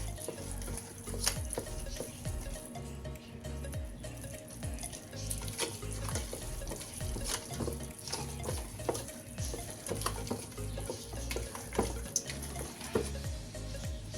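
Hands knead and squish chicken with salt and spices for Kerala-style chicken biryani, a steady wet squelching and rustling close by with no one speaking.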